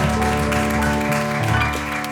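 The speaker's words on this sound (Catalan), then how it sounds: "Un aplaudiment per Ivet Aroles" An audience applauds the poet Ivet Eroles at a reading event in Lleida, with steady clapping mixed over a sustained musical tone that fills the short moment.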